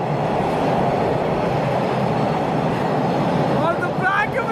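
A subway car rumbles along its track with a steady, loud roar throughout, and faint squealing near the end.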